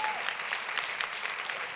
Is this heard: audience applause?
yes